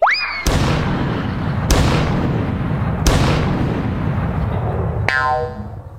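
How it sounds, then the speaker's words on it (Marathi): A three-cannon salute sound effect from a Marathi comedy sketch: a rising whistle, then three loud, heavy booms about a second and a half apart, each decaying into rumble, ending with a brief ringing twang. "या पंचला त्याने 3 तोफांची सलामी दिली बघ."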